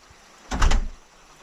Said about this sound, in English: Oh, I closed the door.